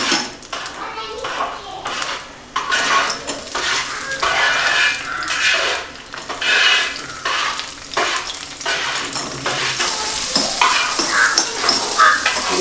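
Cashews fry in a spoonful of ghee for a Thrissur rice halwa, a steady close sizzle broken by frequent scrapes and clinks of a spoon against the pan.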